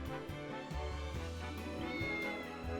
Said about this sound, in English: I love that we can pet the cats.